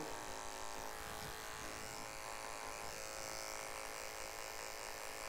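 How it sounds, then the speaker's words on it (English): Electric hair clippers buzz steadily in a barber shop, working in light flicking strokes to take out a weight line, with a constant close motor hum. "Very light flicks or C motions with your clippers"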